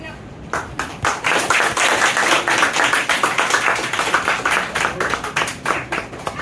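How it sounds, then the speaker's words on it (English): Audience at a Teachers Day celebration in a Department of Sociological Studies applauding professors, a loud, dense burst of clapping that builds quickly and holds steady with crisp individual claps, talk mixed in near the start. "put your hands together to give a huge round of applause for our respected professors"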